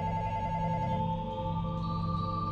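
A phone rings inside the Toca Life World mobile game, a steady electronic ringtone with repeating tonal pulses that carries alone through the moment, clear and fairly close, with game music or ambience sitting underneath.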